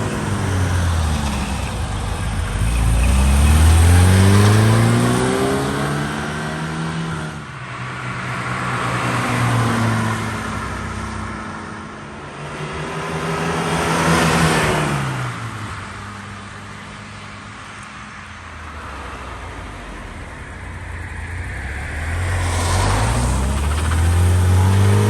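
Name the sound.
2-liter 4-cylinder car engine driving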